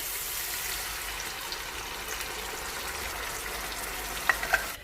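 Beef coated in a thick spice paste fries in a handi on high flame, a soft continuous sizzle close by, with two brief clinks of stirring near the end.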